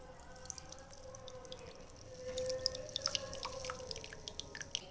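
Juice from grated amla (Indian gooseberry) drips and trickles while being squeezed, a faint patter of small liquid droplets scattered over a quiet background, growing a little busier midway.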